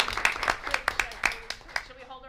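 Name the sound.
applause at a school board meeting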